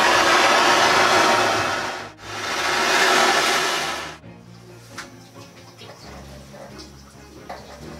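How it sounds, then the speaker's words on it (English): Roaring propane torch flame heating a copper pipe fitting for soldering on an atmospheric hot water tank install, two steady blasts with a brief break, then quiet tinkering afterward. "let's get this soldered"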